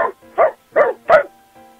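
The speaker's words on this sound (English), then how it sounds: "Hey, Duke, do 3 barks" Dog barking on command: four short, clear barks in quick, even succession, close and fairly loud, with quiet gaps between them.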